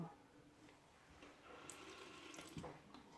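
Water runs from a tap, a faint, steady hiss and trickle lasting a few seconds with a small splash near the end.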